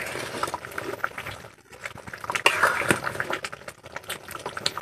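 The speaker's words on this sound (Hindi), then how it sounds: "पूरा उबल गया है देख सकते हैं" Fish curry bubbles and pops in a pot, a soft irregular gurgling of it simmering close by.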